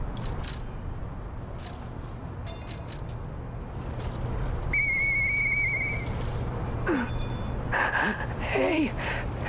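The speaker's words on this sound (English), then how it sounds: "I know that whistle." Two-note whistle calls ring out in the Lies of P video game over a low ambient rumble, a few bright tones in the middle and more near the end.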